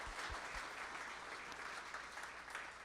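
Meeting audience claps steadily at a community association's annual general meeting, a dense, even patter of many hands held at moderate level throughout.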